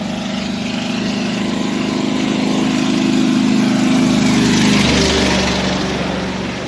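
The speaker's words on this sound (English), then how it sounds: "That was one of the weirdest sounding trucks I've ever heard." A truck with an unusual, odd-sounding engine rolls past on a roadside, its loud droning rumble swelling to a peak and then fading slightly as it moves away.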